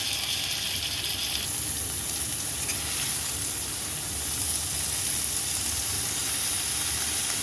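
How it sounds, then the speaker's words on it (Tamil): Potatoes fry with fenugreek leaves in a pan, giving a continuous, close sizzle that brightens partway through as the leaves go in, with faint stirring and no voices. "இப்போது பொட்டேட்டோ இந்த அளவுக்கு ஃப்ரை ஆனதுக்கப்புறம் நம்ம கட் பண்ணி வச்சுருக்கிற இந்த வெந்தயக்கீரையை இது கூட சேர்த்துக்கலாம்"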